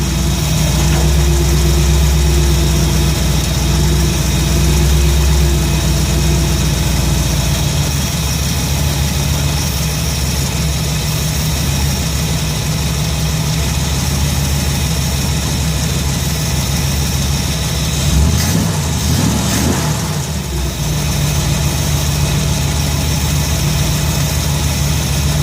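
The 302 V8 in a Ford F100 idles steadily and slightly fast, a loud, continuous low rumble with a constant drone and a brief fluctuation near the end, with no talking.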